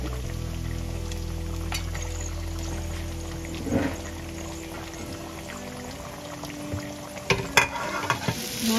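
Onions sizzle gently in a pan on a home stove, a steady low frying hiss with occasional stirring clatter and scrapes, close and moderately quiet without speech.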